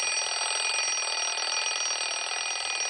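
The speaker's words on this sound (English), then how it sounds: "There's a built-in personal alarm clock." A portable stereo's built-in alarm clock rings loudly and continuously, a steady shrill electronic tone that holds without a break from start to finish.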